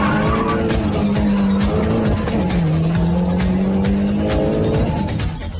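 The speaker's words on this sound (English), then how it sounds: "suddenly he spins out of control and drops back in the field" A race car spins out on a track with tires skidding and squealing loudly, the engine note rising and falling through the slide amid the roar of other cars, with no talking.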